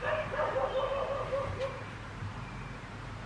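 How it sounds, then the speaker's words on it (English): A dog barks angrily at a distance in a house where cats are also around. A short run of yips and barks fades within the first second and a half, then only faint room noise remains. "now the dog is angry, I guess."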